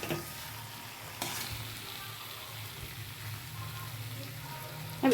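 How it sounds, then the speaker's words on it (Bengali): Young jackfruit fries with spices in a pan, giving a low, even sizzle with a faint scrape of stirring, quiet and close, without talk. "মশলাটার সঙ্গে খুব ভালোভাবে ইঁচড়টাকে ভাজতে হবে"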